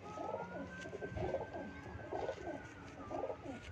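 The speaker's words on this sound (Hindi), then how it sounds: "बहुत ही तगड़ा कबूतर है।" A breeder pigeon coos close by in Lahore, repeating soft, low, rolling calls roughly every second against a faint steady hum.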